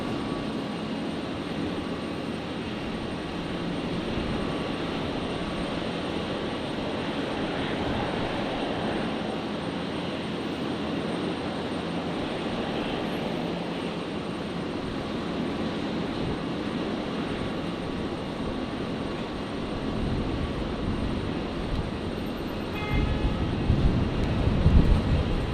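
A Boeing 737 arriving from Melbourne lands on runway 01 right at Brisbane Airport. Its jet engines produce a steady, broad roar that holds for the whole stretch and swells louder toward the end.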